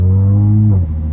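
2013 Audi S5 B8.5 with an AWE track exhaust, a loud droning engine note held close and steady, then dropping in pitch as revs fall.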